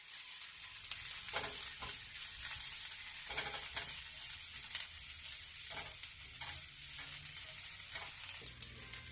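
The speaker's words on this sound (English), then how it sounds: "I'm going to stir them around until they get a little translucent" Onions for a Tex-Mex sausage omelet filling frying and being stirred in a pan, a constant bright sizzle broken by periodic scraping strokes and small pops, close and steady, no voices.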